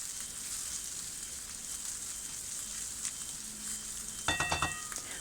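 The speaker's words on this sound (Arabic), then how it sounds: "من بعد في الكسرونه الثانيه نديرو البصله تتشحر مزيان، نزيد هنايا معاهم سكينجبير اللي ديجا درتو في الدجاج، ونديرو الثومه" Onion with ginger and garlic sizzles in a pan for chicken tikka masala, a soft, steady frying hiss with a few sharp clinks of utensils near the end.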